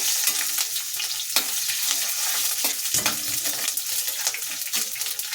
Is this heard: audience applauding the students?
no